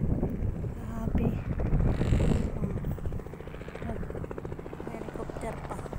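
Helicopter passing over Lingayen Beach, a rhythmic rotor chop under wind buffeting the microphone and beach ambience, loud then easing, while people talk nearby.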